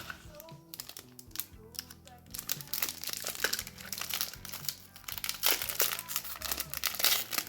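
Cellophane wrapping around heavy collectible coins, each in its own package inside a plastic case, crinkles and crackles continuously and fairly close, with busy rustling bursts throughout and no talk.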